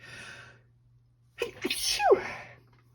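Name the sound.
sneeze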